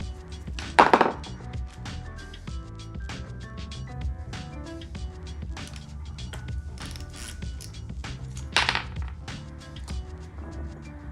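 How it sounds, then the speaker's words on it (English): A wrench works loose the oil pressure switch on a Toyota 2ZZ engine during valvetrain disassembly, giving close metallic ratcheting clicks and clinks with a couple of sharper knocks over eleven seconds. "use a 24mm wrench to unscrew the oil pressure switch"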